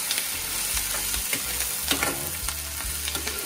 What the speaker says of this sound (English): You saute that for a little bit, not for too long though.